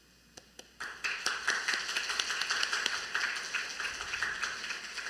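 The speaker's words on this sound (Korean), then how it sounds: "우리 선교사님 나오실 때 박수로 환영해 주시기 바랍니다" A church congregation at a mission report worship service claps to welcome a missionary, with two sharp isolated claps followed by a sustained burst of dense, close applause lasting several seconds.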